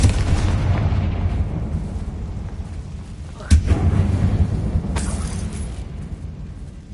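A Confringo blasting spell explodes inside an old mine in the video game Hogwarts Legacy, a single sharp boom partway through with a smaller burst after, over steady low ambient rumble.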